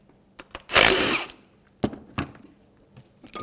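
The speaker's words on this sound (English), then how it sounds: "We're going to use a 14mm socket to remove the 2 bolts." A power tool spins a 14mm socket to remove two caliper bolts on a Honda Pilot performance brake caliper, one loud sustained whir followed by two short bursts and some light clinks nearby.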